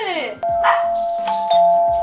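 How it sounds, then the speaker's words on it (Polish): An indoor doorbell rings with a clear, sustained chime that retriggers a couple of times, loud and close, after a brief bit of voice at the start. "Kolejny dzwonek do drzwi?"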